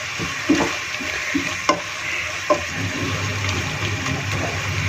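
Minced meat keema fries with spices over a high flame for dhaba-style matar keema, a steady close sizzle broken by a few scraping stirs and clinks, with a low hum beneath and no talk.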